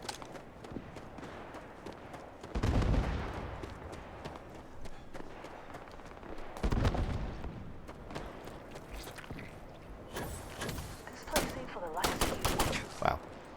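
Gunfire from a long-range weapon in the game Starfield: a few heavy shots and bursts spread across the stretch, mixed with other game effects and movement sounds, with talk at times.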